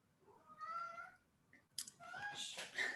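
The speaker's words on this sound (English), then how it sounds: "Sorry about the cat." A house cat meows twice during an online bridge task force meeting, a drawn-out call followed by a louder, rougher one, close to the microphone and quiet overall.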